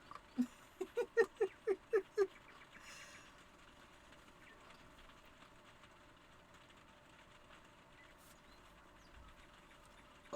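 Steady rain pattering on a roof, a soft, continuous hiss of drops with no letup, opened by a quick rhythmic run of about seven loud chirp-like calls from a fake bird in the first two seconds.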